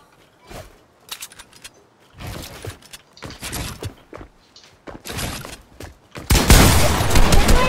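Scattered gunshots ring out during a Fortnite match, separated by short pauses, with one long loud burst of rapid fire near the end, close and prominent.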